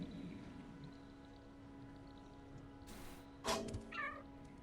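A cat's meow in the video game Stray rises over a steady low electronic hum and soft ambient background, one short wavering call after a brief bright burst.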